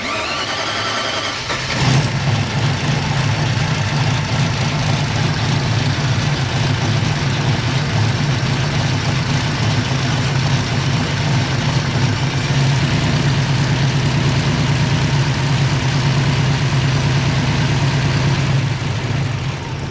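An abandoned small-block Chevy V8 cranks and catches with the choke on, then runs continuously at a rough, loud idle with a steady low rumble and slight surging.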